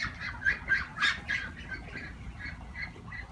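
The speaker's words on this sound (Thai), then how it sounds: "เป็ดไล่ๆกันตลอดนะครับ" Muscovy ducks on a Barbary duck farm give a run of rough, breathy squawking calls, several close together then quieter, with no speech.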